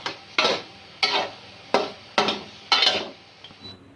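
Six or so sharp metallic scrapes and clacks of a spoon against a pan ring out at regular intervals over a faint sizzle, as garlic and green chilies are fried for white mutton karahi.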